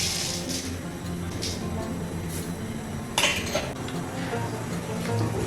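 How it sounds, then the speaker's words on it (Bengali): A spoon stirs sugar and salt into water in a pot, making faint metallic scrapes and light clinks, with one sharper clank partway through. "এবার চিনি নুনটাকে আমি জলের সঙ্গে ভালো করে মিশিয়ে দিচ্ছি"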